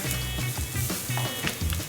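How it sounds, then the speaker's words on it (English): Crackling, popping sizzle of chicken skin on a hot charcoal grill, continuous and close, with a low hum of other noise underneath. "That's already a good sign when you hear that sizzle."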